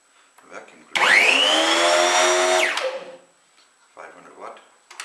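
A Garden Groom Pro 500 watt hedge trimmer runs in a loud, steady high-pitched whir for about two seconds, then winds down and stops. Soft speech comes before and after the motor sound.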